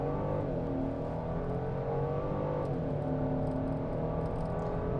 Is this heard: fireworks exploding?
no